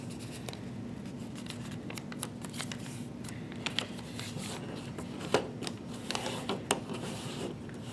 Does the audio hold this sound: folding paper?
yes